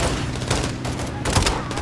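Rapid gunfire from Call of Duty: Modern Warfare II, dense overlapping shots and bursts that carry through the whole stretch, loud and close, with a brief voice cutting in.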